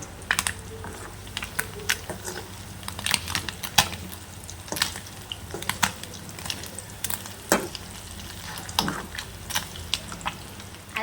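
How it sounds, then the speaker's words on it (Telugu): Fish seasoned with salt and chili frying in a pan, a steady faint sizzle broken by frequent sharp crackles and spits, heard alone at close range. "చేపల కూర వండుకోకుండా ఫ్రై అయితే చేస్తున్నానండి"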